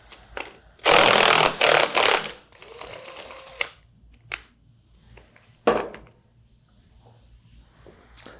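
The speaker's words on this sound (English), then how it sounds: "Remove your impeller nut using an impact." An impact wrench spins the impeller nut off a Waukesha 200 Series pump: a loud, close rattling burst lasting about a second and a half, followed by a few shorter, quieter hits and clicks.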